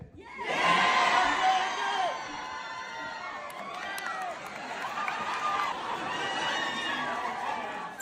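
Excited cinema audience cheering and whooping before a Marvel film, a loud burst of many overlapping voices that peaks early then settles into sustained, busy crowd noise with scattered shouts.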